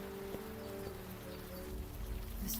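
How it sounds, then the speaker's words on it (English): Rain falls in a video game, a faint steady patter of drops under low, constant hums in the game's background, soft and distant, with no voices. "This friggin' rain."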